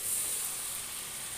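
Meat braising slowly in a pan in a Bengali home kitchen, heard as a soft, steady sizzle and hiss that carries on evenly without pause.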